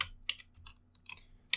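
A short burst of typing on a computer keyboard, several close, crisp key clicks at uneven intervals with brief pauses between, no voices.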